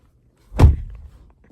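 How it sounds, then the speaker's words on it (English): A single solid thunk as the door of a 2025 Hyundai Elantra SEL Convenience car is shut, close and clean with a short muffled decay, alone without talk. "solid door closing sound"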